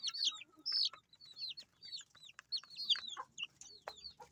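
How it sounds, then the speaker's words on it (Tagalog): Talisayin rooster kept with a Silky hen among chicks, making repeated close clucks and soft calls mixed with high peeping, uneven bursts with short gaps. "So talisayin na rooster yung sinama natin dito sa hen."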